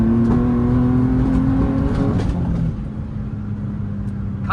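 Nissan 350Z on budget forged wheels accelerating hard from inside the car: a loud engine drone climbing in pitch for a couple of seconds, then an upshift and a steadier roar with road noise.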